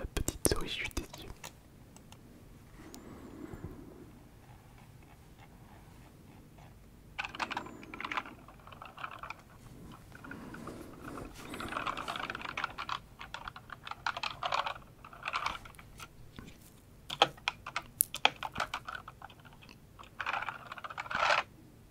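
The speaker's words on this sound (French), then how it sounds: "Petit clavier MSI. Très très bonne marque." Rapid clattering keystrokes on an MSI computer keyboard come in uneven bursts, close and crisp, with soft whispering heard between and under the typing.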